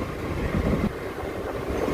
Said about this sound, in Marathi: हे बघा मित्रांनो आपल्या ट्रेनने ॲक्सेलरेशन घ्यायला चालू केला.